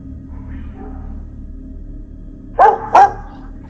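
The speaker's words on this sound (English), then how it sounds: "the dogs in the background begin barking uncontrollably, clearly sensing something unusual" Dogs break into two sharp, loud barks near the end, sensing something unusual at night, following a stretch of low background rumble with no voices.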